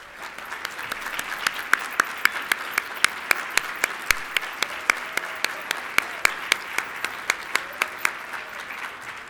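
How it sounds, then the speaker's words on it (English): Audience applause at a closing session, steady dense clapping filling the room for the whole stretch with sharp individual claps standing out, no talking over it. "Let's give them a big round of applause."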